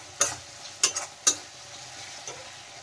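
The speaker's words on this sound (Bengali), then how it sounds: "ভালো করে মশলাটা কষিয়ে নিতে হবে" Masala with kasuri methi sautés in a pan, three sharp spatula scrapes and taps over a faint, low sizzle, heard close with no talking.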